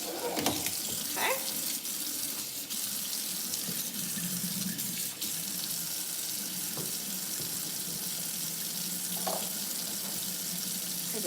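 Steady tap water runs into a sink throughout while vegetables are rinsed, a continuous broadband splashing hiss with small knocks and handling sounds, close and fairly loud.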